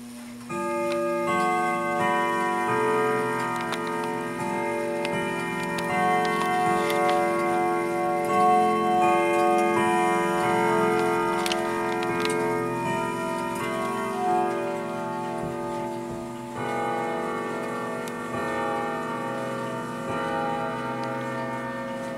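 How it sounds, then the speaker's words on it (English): A Sligh mechanical clock ticks steadily and evenly, with a ringing metallic resonance sustained throughout, close and clear. "Nice sound of this clock."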